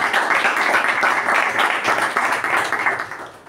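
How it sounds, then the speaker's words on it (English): An audience at a Toastmasters club meeting breaks into sustained applause, a dense wash of many hands clapping that holds steady and then begins to fade toward the end. "can we have an extra round of applause for them?"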